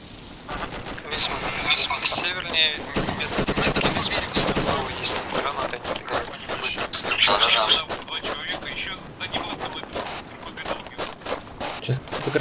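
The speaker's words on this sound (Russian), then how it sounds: "Сейчас кто-то гранаты кидает." Dense, continuous gunfire and explosions in the ArmA 2 ACE military shooter game, with sharp repeated bursts throughout and voices talking over the combat.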